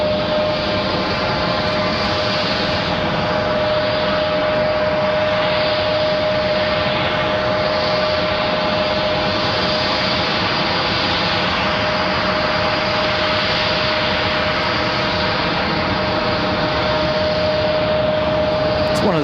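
A small training aircraft from a flight academy at Raleigh-Durham International Airport drones loud and steady close by, its engine holding an even tone with a sustained whine throughout.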